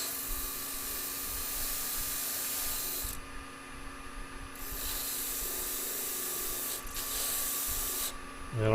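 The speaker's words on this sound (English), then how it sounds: "I hold it square to the wood, so I'll find a fresh piece of sandpaper." Sandpaper is pressed against a wooden piston box spinning on a lathe, producing a hissing, rubbing rasp in several bursts separated by brief quieter pauses.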